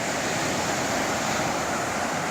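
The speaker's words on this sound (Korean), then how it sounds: "고성 앞바다에 파도가 리사이트를 하고 있습니다" Waves break on the shore at Goseong on the East Sea coast, a steady, dense wash of surf and wind filling the whole stretch with no pauses.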